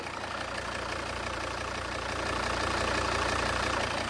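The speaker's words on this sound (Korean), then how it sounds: "엔진 소리 한번 바로 들려드릴게요" A Volvo XC60 D4 diesel engine idles close by, a steady low rumble with a faint knocking texture that grows slightly louder near the end.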